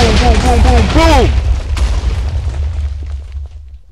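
A chain of explosions in Minecraft rolls out as a loud, continuous rumble of booms that slowly fades, with excited voices and cheering over the first half.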